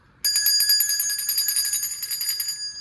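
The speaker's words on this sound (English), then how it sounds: "I'm finna ring my bell so that way we can break up this energy" A hand bell rings with a sudden strike and a bright, sustained metallic shimmer that pulses rapidly as it is shaken, close and fairly loud, fading slightly toward the end.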